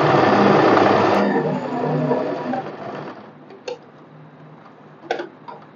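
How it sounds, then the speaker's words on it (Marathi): A sewing machine stitches a double seam on an umbrella frock, a steady loud whirring run for about three seconds, then stops, followed by a few faint clicks and handling knocks. "आणि बंद करणार आणि अर्धा इंचावर स्टिच करून घेणार"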